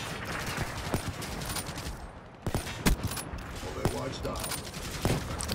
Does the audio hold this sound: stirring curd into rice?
no